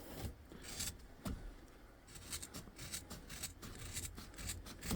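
A car seat belt is sawed through with a blade or scissors, giving several sharp scraping and snipping strokes near the microphone, plus quieter rubbing and fabric sounds between cuts.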